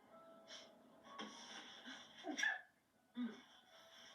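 A single sneeze bursts out at close range after some breathy sounds, followed by a short gasp or sniff.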